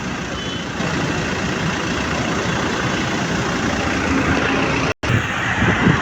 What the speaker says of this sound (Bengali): কোনো গাড়ি ঘোড়া কোনো কিছুই চলতেছে না,